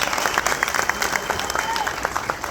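An audience claps at a film premiere, a dense, close burst of applause that continues evenly throughout, with a voice speaking over it.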